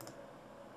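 A single faint mouse click sounds at the start while working in iTunes on a computer, followed by quiet room noise.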